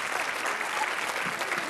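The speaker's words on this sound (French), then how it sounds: "On applaudit Franck-Philippe et ses 13 chiens." Studio audience applause for a guest and his thirteen dogs on a French TV talk show, a steady dense burst of clapping from a crowd, even and sustained for the whole short stretch.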